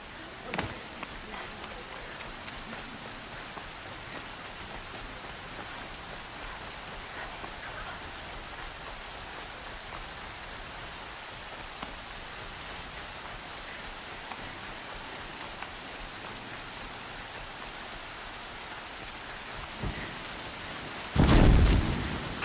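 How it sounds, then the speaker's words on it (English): Steady rain pours down in a video game scene, a dense continuous hiss with scattered drops, ending in a sudden louder burst near the close. "Air's heavy with rain."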